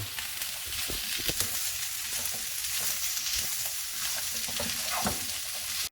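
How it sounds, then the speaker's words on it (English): Sisig frying and being stirred in a hot pan, a dense continuous sizzle with scattered crackles and the scrape of mixing, close up and alone without talk. "Alright, so now we're gonna kind of fry all this up and mix it together"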